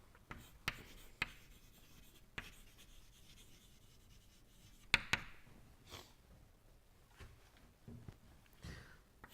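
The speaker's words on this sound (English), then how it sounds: "let us write the mass balance" Pen or chalk scratches and taps sound intermittently while a mass balance is written out during a thermodynamics lecture, faint and close with scattered sharper strokes and no talk.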